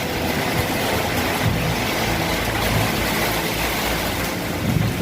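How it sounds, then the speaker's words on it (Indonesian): A powerful storm with heavy rain batters Selatpanjang, producing a constant loud roar of wind buffeting and rushing rain, close and unbroken, with gusts swelling briefly. "Karena ngeri sekali anginnya."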